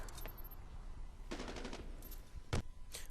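Mortar strike explosions in the Medal of Honor Warfighter video game come as a few sharp booms and bursts. The loudest blast lands late, and rattling gunfire-like cracks run through the middle, with no talking.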